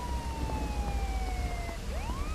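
A police car siren wails from a distance, its tone sliding down and then sweeping up again, faint over a low rumbling background with no one speaking.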